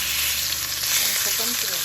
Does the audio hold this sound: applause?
no